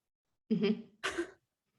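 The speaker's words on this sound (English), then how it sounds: "she's coughing" Two short, rough coughs in quick succession, close by, followed by silence.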